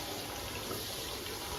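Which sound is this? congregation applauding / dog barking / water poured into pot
water poured into pot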